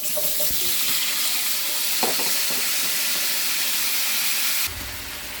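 Potato, cauliflower, carrot and beans fry in oil with garlic and green chilli, making a steady, close sizzling hiss that runs throughout and eases slightly near the end, with no talking.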